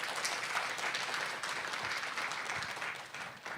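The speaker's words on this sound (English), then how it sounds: "let's give a round of applause to all the speakers" Audience applause for the speakers at a workshop on ASEAN online dispute resolution, a steady wash of many hands clapping at moderate level through the whole stretch, easing slightly toward the end.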